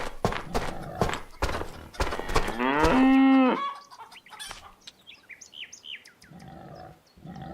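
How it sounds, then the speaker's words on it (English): Farm-game cows moo in a stall, one long loud drawn-out low moo in the middle, surrounded by shorter calls, knocks and clip-clop-like thumps, with no talking. "That's how cows warm up their voices before singing."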